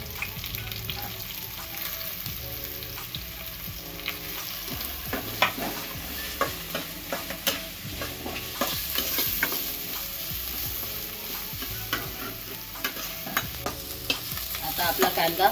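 Onion and garlic fry in a pan with oil, a steady sizzle under repeated scraping and clinking strokes of a spoon stirring, close up and fairly loud, with no speech.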